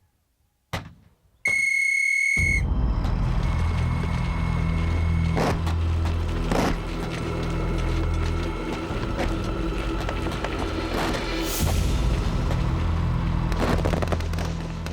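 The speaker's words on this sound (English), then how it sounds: "whistles blew" A shrill whistle blast, representing whistles signalling the attack on the Somme in 1916, sounds briefly near the start. It is followed by a sudden loud, sustained roar of battle with scattered booms and cracks.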